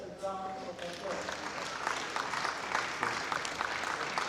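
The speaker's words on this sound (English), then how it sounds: "Yes, that deserves a round of applause." Applause from the audience at the GA Awards and Business Summit 2025, a steady, moderately loud wash of many hands clapping that follows a fading voice at the start.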